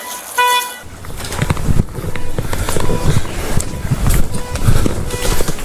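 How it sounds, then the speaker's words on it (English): A car horn gives a short, sharp toot near the start, followed by a busy stretch of rumbling, knocking movement and scuffing outdoors. "Is that my car beeping?"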